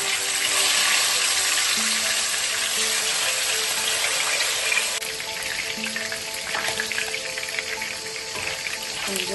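Large koral fish (barramundi), about three kilograms, frying in hot oil in a covered pan, giving a steady, loud broadband sizzle that continues throughout with no talking.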